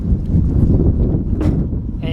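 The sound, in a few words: strong wind blowing outdoors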